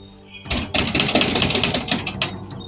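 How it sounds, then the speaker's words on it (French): Loud, rapid knocking and banging on a door, a dense rattling burst of blows lasting about two seconds after a quiet start. "tu toques comme tu toques là? Tu vas me casser la porte?"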